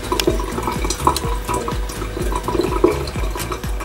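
Ethanol starting to boil in a Soxhlet extraction of mandarin, with boiling chips at work, giving close, irregular bubbling and gurgling pops over a low rumble, without talk.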